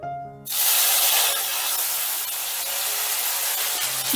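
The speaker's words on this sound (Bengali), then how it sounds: "ফোড়নটা নাড়াচাড়া করেই দিয়ে দিচ্ছি বাটা মশলা" Ground spice paste hits hot oil in a pan, bursting into a loud, dense sizzle that holds steady for several seconds after a brief quiet start.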